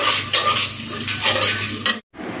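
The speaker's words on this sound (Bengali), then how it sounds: "এখন একটু নাড়ে দেব" Spices such as cumin, ginger and garlic paste being stirred into chicken in a pot, a loud close scraping and sizzling stir in continuous strokes, then a brief pause and more stirring.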